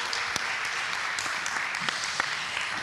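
An audience claps steadily at a French conference, a dense, even wash of applause from a crowd with a few sharper individual claps standing out.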